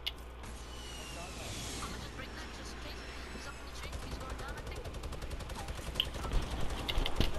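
Gunfire rattles through a Fortnite match at Tilted Towers, with bursts and scattered shots building louder toward the end, mixed with game ambience and a player voice talking over it.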